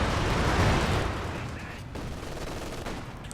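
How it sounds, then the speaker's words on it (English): A Werfer rocket artillery barrage in a Company of Heroes 2 two-versus-two match on a frozen map: a loud, dense rumble of rocket impacts and gunfire that eases slightly, with a commentator's voice faintly over it. "Another Werfer barrage."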